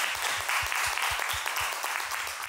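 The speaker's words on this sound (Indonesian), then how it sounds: "Tepuk tangan dong yang ada di sini," Crowd at a hip hop and reggae show clapping hands, a dense, even patter of applause with a few sharper individual claps standing out near the front.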